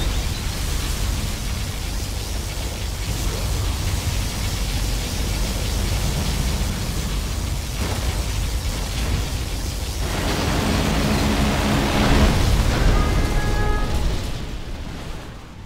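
Particle cannon explosions in the video game Command & Conquer Generals form a loud, sustained roaring wash of noise lasting about fifteen seconds, swelling near the end before easing off, with a few faint tonal unit sounds mixed in.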